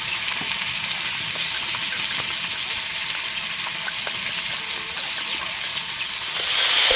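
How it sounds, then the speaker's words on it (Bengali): Ginger sizzles in hot oil for a vegetarian soybean muitha dish, a steady, close bright frying hiss that holds evenly throughout and swells slightly louder at the very end. "আদাও ভেজে নিয়েছি"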